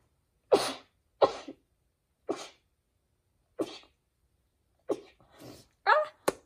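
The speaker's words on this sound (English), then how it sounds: "I'm going to sneeze." Six or seven sharp sneezes burst out one after another indoors, close and loud, with short gaps of silence between them and a softer breathy sound near the end.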